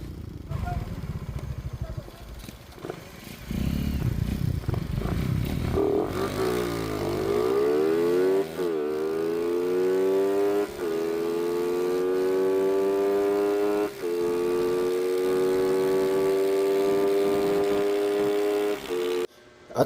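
A Honda Supremo 180cc and a remapped Suzuki Raider 150 FI race in a test run, their engines revving up loudly and climbing through the gears in long rising pulls, with brief drops at each shift.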